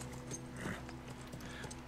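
Horse hooves clip-clop steadily in The Last of Us Remake on PS5, a moderately loud, even walking rhythm of repeated soft knocks heard alone for about two seconds.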